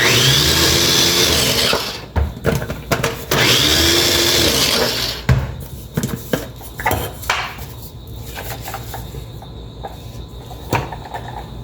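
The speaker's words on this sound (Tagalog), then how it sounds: "Kaya kailangan i-check ko yung aking blender." A blender whirs loudly in two bursts of grinding, then stops, followed by scattered clatters and knocks of utensils.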